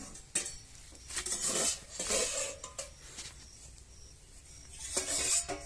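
Whole lote fish are being cut in a home kitchen, with intermittent close-up knife clicks, scrapes and clinks against utensils and a short pause between bursts.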